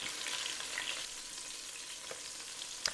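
Pork tenderloins sear in a pot with a soft, continuous sizzle and crackle, broken by a few faint clinks near the end; no voices.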